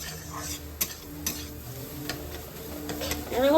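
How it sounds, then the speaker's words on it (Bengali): A spatula stirs and mashes bananas into semolina halwa in a pan, with soft scraping strokes and light sizzling, a few sharp taps against the pan, close and quiet. "এরকম নাড়বে আর ম্যাশ করে দেবে একদম খুন্তি দিয়ে"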